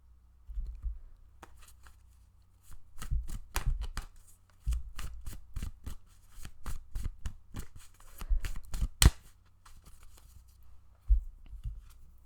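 Tarot cards are shuffled by hand at close range in quick bursts of crisp riffling snaps, with short pauses between flurries and no voices.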